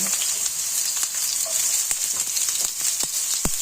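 Chopped onion sizzles and fries in a hot pan while cooking green beans with pork crackling, a steady close crackle with scattered sharp pops throughout, no voices.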